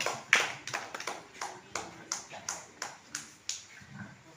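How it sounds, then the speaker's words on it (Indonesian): Small audience claps at an art exhibition opening, a sparse, uneven patter of about a dozen sharp claps fading into a low murmur. "Tepuk tangan untuk Mas Bambang Siswanto."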